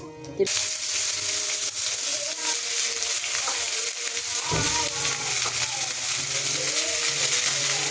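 Black cumin, five-spice, cumin seeds, dried chillies and cut kakrol (spiny gourd) fry in hot oil in a wok, giving a steady, loud, close sizzle with occasional stirring clatter throughout.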